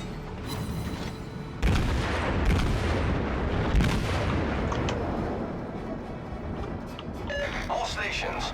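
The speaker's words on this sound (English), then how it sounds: "Turn around and get all the other guns firing on this guy" Naval guns firing in World of Warships, heavy booming salvos that land in several loud bursts over a dense rumbling battle backdrop.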